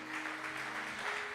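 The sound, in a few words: congregation applauding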